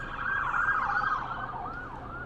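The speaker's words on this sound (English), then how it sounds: "I hear some sirens, everyone stop" A wailing emergency vehicle siren rises and falls in pitch, fairly close, heard while driving, with low traffic rumble underneath.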